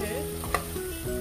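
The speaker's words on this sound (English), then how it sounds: "Adding dry yellow pepper with another big stir before I add my curry masala." A short burst of stirring in a frying pan as dry yellow pepper goes in, with a single scrape over a faint sizzle and steady background hum.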